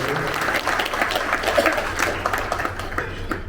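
Applause from guests at a community summit gathering, a steady dense wash of clapping throughout that swells slightly in the middle, with no speech over it.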